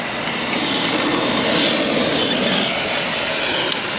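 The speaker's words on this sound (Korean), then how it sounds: "지금 보면은 이게 일반적인 스로틀 돌아가는 거고요" Motor of a rear-wheel-drive RC drift car running at normal throttle through its electronic speed controller, a loud steady high-pitched whine with faint tonal whistles, close and continuous without talk.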